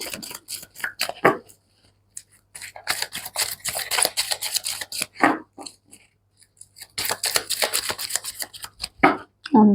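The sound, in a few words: tarot cards being shuffled and drawn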